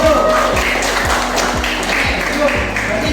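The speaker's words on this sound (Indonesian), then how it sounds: "Oke, tepuk tangan untuk Pak Guru" Students in a classroom applaud their teacher, a continuous spread of clapping hands heard over a low hum, with some voices mixed in under the applause.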